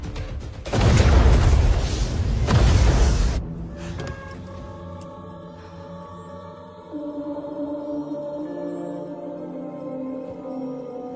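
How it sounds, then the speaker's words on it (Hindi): A missile explosion in a movie booms loudly in two heavy, rumbling bursts over about three seconds, then fades into a lingering tail of dramatic background music. "30 सेकंड में धमाका हो जाएगा।"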